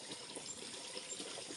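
Faint trickling and pouring water while a child is being bathed, a soft continuous splash with small bursts and no talk.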